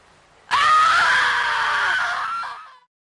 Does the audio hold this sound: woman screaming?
yes